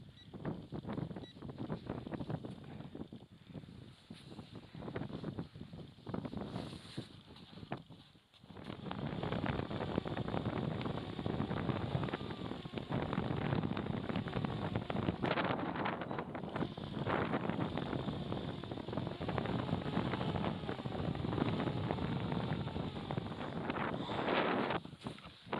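Wind at a winter wild camp on a mountain beside a tent, gusting around 15 mph, buffeting the microphone in a loud continuous roar that eases briefly before rising again, with no voices.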